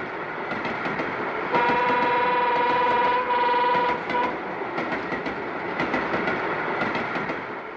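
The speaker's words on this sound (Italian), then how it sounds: "il treno è sempre il treno" A train rumbles past with rhythmic clickety-clack of wheels on rails and a sustained horn blast partway through.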